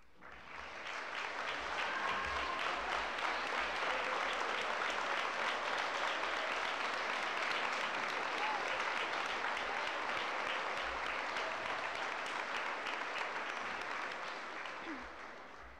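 Graduating students at a high school class day applaud their school staff with a long, full round of clapping from a large crowd, swelling in quickly and holding steady for about fourteen seconds before fading.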